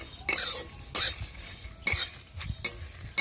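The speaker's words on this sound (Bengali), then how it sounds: "মশলাটা ভাজা হয়ে গেছে" Spices dry-roasting in a pan for raw mango pickle are stirred with a utensil, giving a few sharp scraping and clinking strokes spaced about a second apart over a faint background, with no talk.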